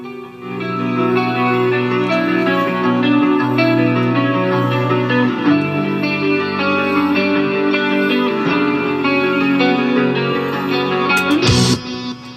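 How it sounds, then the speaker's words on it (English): A clean electric guitar rings out in clear, bell-like chords and notes, sustained and bright, ending with a brief noisy clatter. "the sound of the guitar is almost bell-like."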